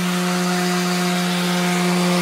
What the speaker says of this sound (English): I'm just going to give it a finer sanding. And a random orbital sander.